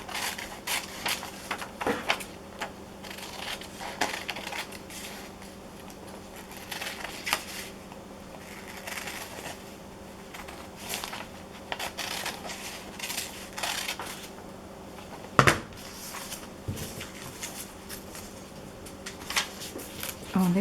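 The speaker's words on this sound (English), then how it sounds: "I'm going to cut that a little smaller." Scissors cutting a paper picture for a glue book, a run of faint crisp snips and paper rustles under a nearby voice, with one sharper clack partway through.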